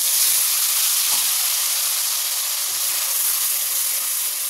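Ground tomato and green chili paste sizzles loudly in hot oil over panch phoron spices, a dense continuous hiss close up that holds evenly throughout.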